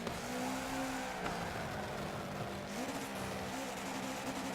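Subaru race car in Forza Motorsport 7 driving with a steady engine drone, pitch rising and falling through gear changes, with light tire squeal, moderately loud and with no talking.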